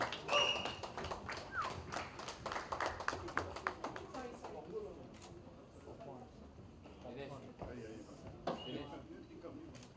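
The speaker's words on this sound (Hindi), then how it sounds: "जोरदार तालियां पपॉन के लिए" Scattered applause for Papon at a press meet, a burst of claps that thins out over several seconds while people talk and call out nearby.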